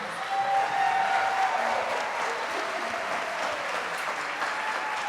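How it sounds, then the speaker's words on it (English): An audience at a veterans' spring concert gives sustained applause, a dense, even wash of many hands clapping from start to finish, with faint crowd murmur underneath. "Can we give them another round of applause?"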